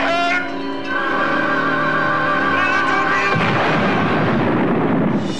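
A torpedo explosion sound effect from a TV show: a ringing, tonal blast that rumbles on, then a second heavy boom breaks into a broad, roaring wash that stays loud to the end.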